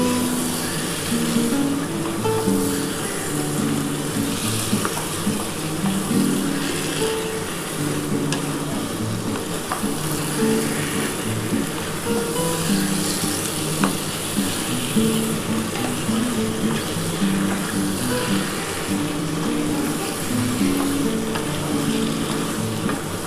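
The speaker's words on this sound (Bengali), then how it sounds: "এবার এটার সাথে ভালো করে মশলার সাথে কষাতে হবে।" Mutton pieces with spices sizzle and crackle steadily in a hot pan while being stirred for a thin potato curry, a constant close frying hiss with occasional scraping, and no voices.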